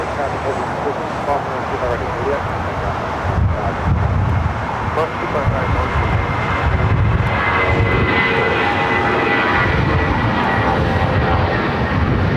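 A United Airlines A320 takes off from LAX's south side, heading for SFO, with loud, broad engine roar and wind buffeting that swells over the span, a faint whine emerging later, voices speaking over it.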